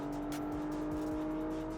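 A mid-engine Porsche sports car drives on a race track, a steady low engine drone with a sustained tone, loud and close throughout with no talk.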